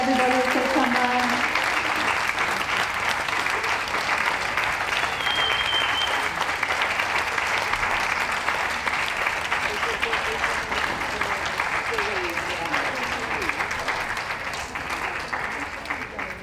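A crowd claps in loud, steady applause for the puppies at the Bath 2017 dog show's Best Puppy in Show judging. The dense, even clapping runs unbroken for about sixteen seconds, with a brief voice near the start.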